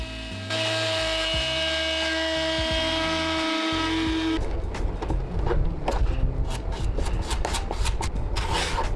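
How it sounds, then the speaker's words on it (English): A wood router trims the edges of a wooden countertop, starting with a steady high-pitched whine that gives way after a few seconds to loud, rough cutting noise as the bit bites into the wood, continuing without talk. "I routed the edges"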